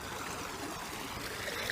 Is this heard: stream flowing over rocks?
yes